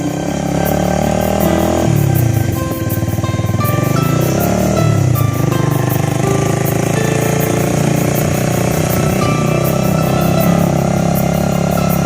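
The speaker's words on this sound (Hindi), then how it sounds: "अब हम लोग बाइक पे बैठ रहे हैं और आगे जनाब सफ़र करेंगे" Motorcycle engine running steadily and loudly up close on a ride toward a jungle near Sialkot, a continuous droning rumble with shifts in pitch as it revs early on, then holding an even tone.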